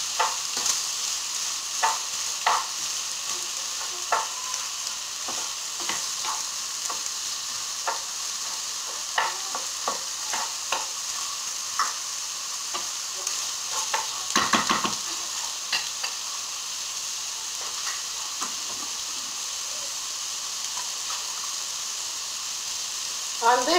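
Rice frying in oil in a pan while paella is being cooked, a soft continuous sizzle with scattered crackles and occasional scraping stirs, fairly quiet and close, with no talking.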